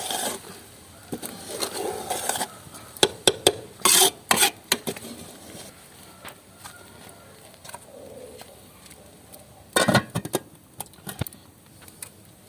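Garam masala being stirred into chicken biryani in a pot: a series of scraping, clattering strokes of a spoon against the pot, loud bursts near the start and again around ten seconds, with quieter stirring between and birds cooing in the background.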